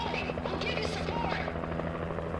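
A helicopter in the game Alan Wake Remastered, its steady rotor drone and engine hum loud and continuous throughout, with talk over it.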